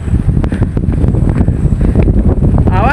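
Strong wind buffeting the microphone outdoors on a village hillside, a loud continuous rumbling roar with gusty bursts, no talking.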